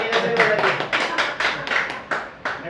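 A small audience clapping at a Hindi-language gathering, a run of distinct, fairly close claps in an uneven rhythm that keeps going through the whole moment.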